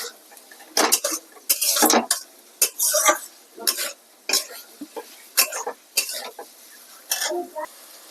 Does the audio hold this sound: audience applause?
no